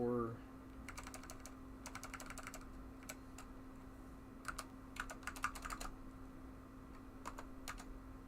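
Soft clicking keystrokes on a computer keyboard while editing in the vi editor on an A/UX system, tapped in short irregular bursts, fairly quiet under a low steady hum.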